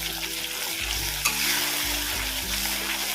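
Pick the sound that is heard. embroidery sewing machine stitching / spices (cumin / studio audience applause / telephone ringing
spices (cumin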